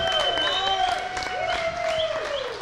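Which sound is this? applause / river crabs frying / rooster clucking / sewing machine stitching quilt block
applause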